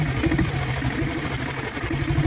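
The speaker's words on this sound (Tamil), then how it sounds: "இப்போ இந்த வண்டிக்கு செல்ஃப் போட்டு காட்டுற பாருங்கள்" An old, restored Royal Enfield Bullet motorcycle engine runs close by after a self-start, holding a steady, even idle thump for a couple of seconds with no talking.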